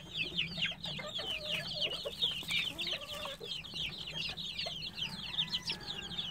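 A dominant hen keeping her eight chicks close clucks repeatedly on a farm, a steady run of short, close clucks and chirps over a low background hum.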